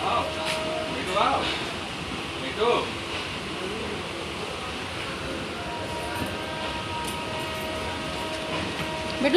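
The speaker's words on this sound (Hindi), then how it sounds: "यहाँ पे हमारी गाड़ी ट्रेन धनबाद इन कर चुकी है।" A train pulls into Dhanbad station with a continuous low rumble of rail cars and ambient platform hum, while people talk over it and a few brief clanks sound.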